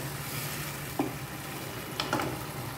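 Fish frying in a spice masala as it is stirred, a steady low sizzle with a couple of soft scraping stirs near the start and end, close and fairly quiet.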